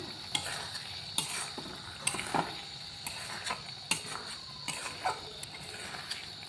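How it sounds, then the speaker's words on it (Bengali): A spoon scrapes and clatters around a pan of mushroom curry seasoned with garam masala. Repeated stirring strokes click against the metal over a steady soft sizzle, close up, with no talking. "এবারে মিক্স করে নেবো ভালো করে"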